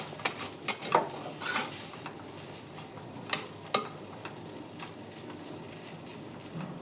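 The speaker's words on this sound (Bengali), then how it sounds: "এইভাবে ভেজে নিতে সুন্দর করে ভেজে নিতে হবে" Lata fish fries quietly in a pan, a soft low sizzle broken by several sharp utensil scrapes and clinks against the pan, close and fairly faint.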